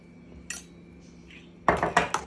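A metal spoon scrapes and clinks against a steel pot a few times while mixing ridge gourd chutney, ending in a quick burst of stirring clatter.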